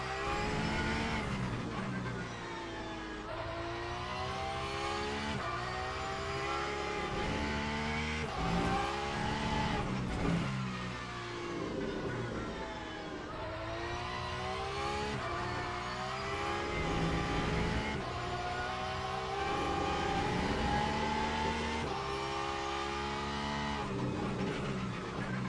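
A Porsche race car in the racing game Le Mans Ultimate drones continuously as its engine climbs and falls through gears, with occasional tire noise, a steady near sound with no pauses.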